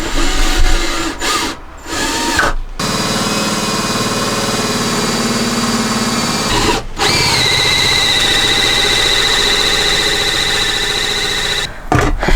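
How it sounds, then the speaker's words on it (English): A power drill bores a hole through the floor of a converted short school bus, its motor whining loudly and steadily with brief stops and restarts and a high squealing pitch as the bit cuts through. "now I'm going to drill that hole all the way through"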